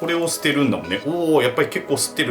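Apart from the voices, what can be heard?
No everyday noises stand out.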